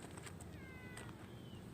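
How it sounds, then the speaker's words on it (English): A cat meows a few times, drawn-out and plaintive, faint against a steady outdoor hum. "Meow."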